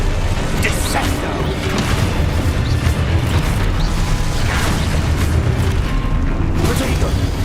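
Descendo spell cast in Hogwarts Legacy combat, a loud rushing magical blast with crashing, mechanical game effects and booms over a dense, continuous sound bed.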